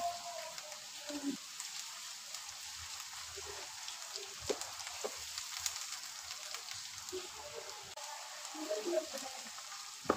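Chopped onions with ginger-garlic paste fry and sizzle steadily in hot oil for a chicken white korma, a continuous close crackle with occasional stirring clicks and no talking.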